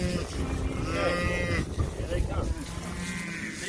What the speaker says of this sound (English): just watch all your cows go by you